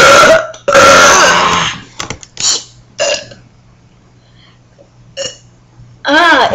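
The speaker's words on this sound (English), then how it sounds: "I need to try a burp." In a home burping contest between a young boy and an older sibling, several loud, close burps erupt in quick succession, some long and gravelly, others short and squeaky, with brief breaths and murmured voices in between.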